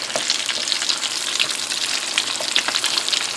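Salmon croquettes crackle and sizzle steadily in a hot pan, a dense close frying hiss with scattered spitting pops throughout, no voices.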